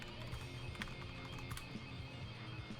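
Fingers type on a computer keyboard at a steady rapid pace, the clicks close but fairly quiet over a low background hum.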